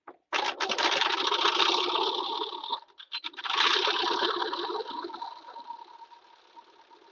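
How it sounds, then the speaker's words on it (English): A sewing machine stitches down culottes made from a thrifted tablecloth, running in a long steady burst that stops briefly, then resumes and trails off, loud and close with no talking. "Now we can finish stitching this down like"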